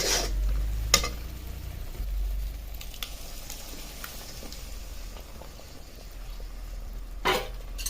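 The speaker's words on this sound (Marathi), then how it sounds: "आता ह्या तयार मसाल्यामध्ये आपण आपली जी घोटलेली डाळ टाकून घेणार आहोत" Mashed dal stirred into fried masala in a pot for bazaar-style amti: a soft, wet squishing and bubbling, with a few sharp clinks of the spoon against the vessel, heard close and alone.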